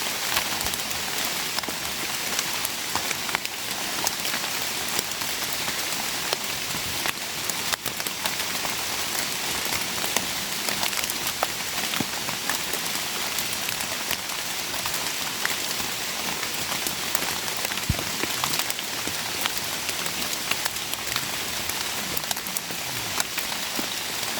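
Steady rain pours down without letup, a dense hiss of drops striking surfaces all around, with occasional heavier drips and no voices.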